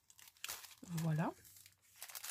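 Decorative paper is handled and crinkled up close in one short rustling burst, with quiet talking before and after it.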